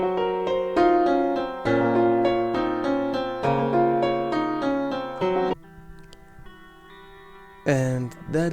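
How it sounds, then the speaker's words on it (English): A sampled piano melody is layered with a second keys part on top, dense struck notes ringing together before thinning to a few sparse tones and ending on one last bright chord. "I then followed that same piano with keys on top"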